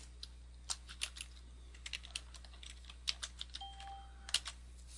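Computer keyboard keys tapped to type a password, a quick irregular run of light, close clicks over a quiet background hum.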